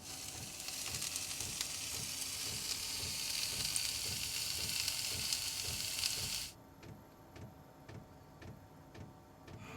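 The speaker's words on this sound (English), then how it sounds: "I'm going to put a bit of heat to that smoked bacon meat." Smoked bacon and mushrooms fry in a pan, a steady close sizzle with crackling pops that drops abruptly to a quieter ticking sizzle partway through, no talking.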